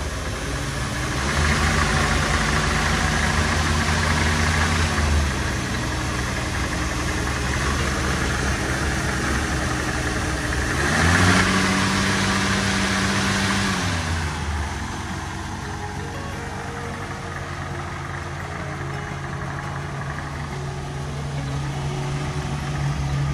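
A 1948 Chevrolet Stylemaster four-door sedan's engine, running on old fuel, idles steadily with a low mechanical hum, briefly revving up around the middle before settling back to a constant idle, heard close and alone.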